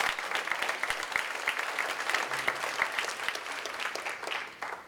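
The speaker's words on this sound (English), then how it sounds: "Can we give them a round of applause" Crowd applause for military veterans at an outdoor political barbecue in Story County, Iowa, steady clapping from a moderately distant audience for several seconds without talk.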